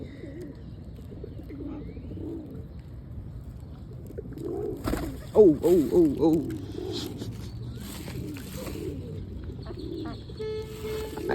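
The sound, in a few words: bird cooing while being fed peanuts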